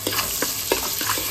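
Onion and ginger-garlic paste fry in a pan with a continuous sizzle, broken by brief rhythmic scrapes of a spoon stirring roughly every third of a second; no voices.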